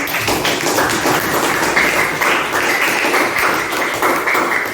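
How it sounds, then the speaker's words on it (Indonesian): A Grade 7 class applauding together in a classroom, a dense, steady clatter of many hands clapping at once, loud and unbroken for the whole stretch with no talk over it. "Tepuk tangan untuk kita semua."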